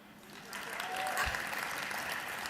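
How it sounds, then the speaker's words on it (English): Applause from the crowd at the 17th Annual D.I.C.E. Awards, a video game industry ceremony, swelling within half a second into steady, dense clapping that fills the hall and continues throughout. "I didn't actually mean for you to applaud"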